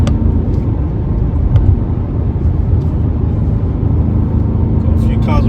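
A Mercedes C63 AMG V8 roars along a Polish country lane with a loud, steady engine drone and a few sharp exhaust pops, while someone talks over it.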